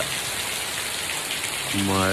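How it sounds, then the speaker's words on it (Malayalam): Heavy rain falls outside as a steady, dense hiss that fills the whole moment, heard nearby; a voice begins to sound over it at the very end. "നല്ല സൂപ്പർ മഴ പെയ്യുന്നുണ്ട്"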